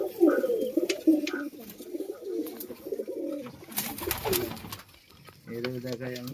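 An Andhra pigeon gives repeated low, throaty coos close by, mixed with rustling and other bird sounds, with a voice speaking over part of it and a clear burst of cooing near the end.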